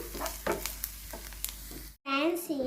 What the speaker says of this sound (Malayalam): പാനിൽ ഓയിലൊഴിച്ച് ജിഞ്ചർ ഗാർലിക് പേസ്റ്റ് ഇട്ട് ഓണിയൻ കട്ട് ചെയ്തിട്ട് മിക്സ് ചെയ്യാം